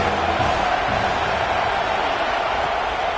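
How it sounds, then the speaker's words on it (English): Ohio State Buckeyes football crowd roaring on a third down against Indiana, a dense, steady wall of stadium cheering and noise that holds at full volume throughout without a break. "The Buckeye crowd alive on 3rd down."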